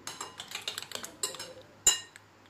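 Egg whites mixed with chillies, coriander leaves, mint and salt are stirred in a bowl, giving a run of light, close clinks and scrapes of a utensil against the bowl, with one sharper clink near the end.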